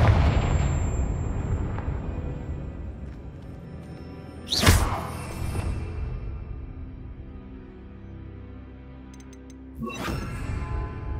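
Spell-casting blasts in Hogwarts Legacy: two sharp, loud magical bursts about five seconds apart, each a bright crackling impact with a whoosh, over a rumbling game soundscape.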